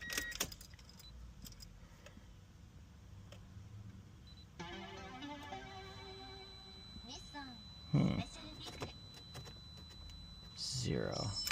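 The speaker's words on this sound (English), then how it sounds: "I will get my keys." Car keys jangle briefly in a 1996 Nissan Stagea during a fuel pressure gauge install, a soft metallic rattle over quiet cabin ambience with a few clicks and knocks.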